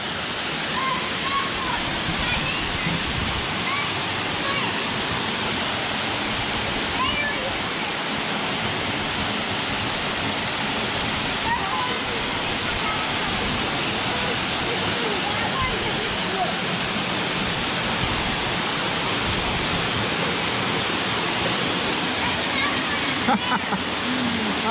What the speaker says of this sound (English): Waterfall coming out of the ground.